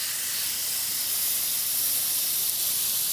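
A 5.5 gpm pressure washer sprays water in a continuous, loud, hissing blast that stays even from start to finish, with no talking.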